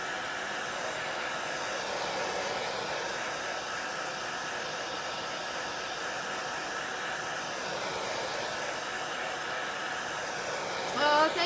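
A hair dryer blows steadily to dry chalk paint on a Christmas Santa craft, a continuous airy whir heard close, with a brief voice near the end.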